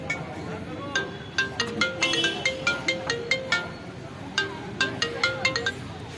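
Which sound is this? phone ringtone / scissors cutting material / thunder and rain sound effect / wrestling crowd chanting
phone ringtone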